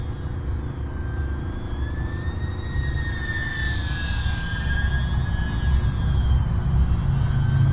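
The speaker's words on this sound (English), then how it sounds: "I've never flown a Warbird quite like this." E-flite UMX P-47 BL small electric RC warbird airplane flying, a thin motor whine rising and falling in pitch as it passes, over a steady outdoor rumble that grows slightly louder.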